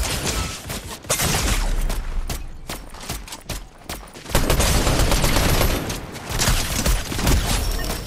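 Heavy gunfire in a video game shootout, rapid bursts and sustained volleys of shots with booming impacts filling the whole stretch, loud and continuous with only brief lulls.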